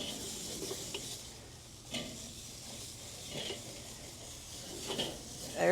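Half an onion is scraped over hot Weber kettle grill grates above Royal Oak charcoal briquettes, a soft steady sizzle and hiss with occasional scraping knocks, close and quiet, no talking.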